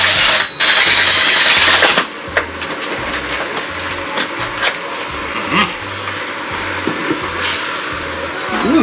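A power drill whirs loudly for a couple of seconds, then cuts out. Quieter mechanical noise and scattered clicks follow.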